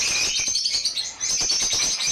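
A breeding pair of African lovebirds with chicks chirping in a cage, a dense, shrill stream of rapid high tweets that continues almost without pause, close and loud, with faint fluttering.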